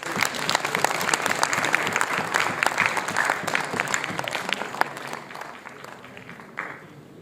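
Audience applause for a performer at a multicultural music event, sustained clapping from a sizeable crowd with sharp individual claps standing out, gradually thinning and fading over about seven seconds.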